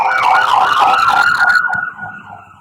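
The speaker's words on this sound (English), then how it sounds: "You can hear the siren out there." An emergency siren passes by outdoors in a small town, its wailing tone sweeping up and down steadily and clearly, then fading out over the last second as it moves away.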